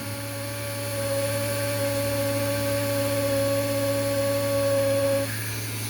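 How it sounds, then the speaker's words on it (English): A small drill fitted with a 1/16 inch bit bores straight down through the parts of a P38 model aircraft, giving a steady, close motor whine that runs for about five seconds before cutting off. "I am just going to drill holes basically directly down all the way through"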